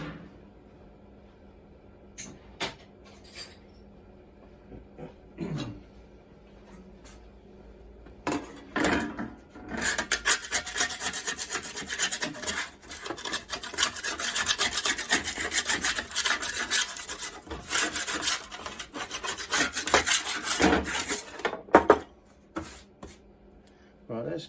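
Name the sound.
scraping cement off metal before bending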